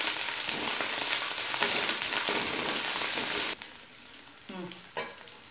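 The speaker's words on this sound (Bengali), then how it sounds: "আধা চা চামচ আদা বাটা দিয়ে কিছুক্ষণ মশলাটাকে আমরা" Sliced onions and ginger paste frying in a pan for chicken tehari, a loud steady sizzle with stirring scrapes that drops to quieter crackles and spatula clinks partway through.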